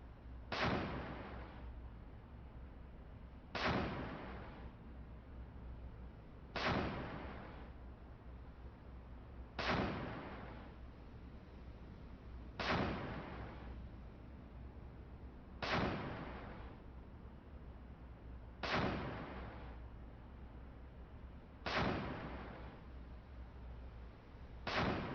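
Ship's deck cannon firing in the naval combat game Cold Waters, a booming shot with long decaying rumble repeating steadily about every three seconds, eight or nine rounds in a row, loud and without talk.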